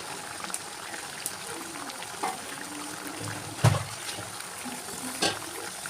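Pathiri with black cumin frying in hot oil on a gas stove, giving a quiet, steady sizzle with scattered soft pops and a few louder crackles.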